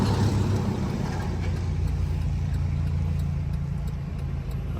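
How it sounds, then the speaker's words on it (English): Heavy trucks and other traffic roll past on a small-town Georgia road, a continuous engine rumble that swells nearby and then eases off, with no voices. "Lots of trucks."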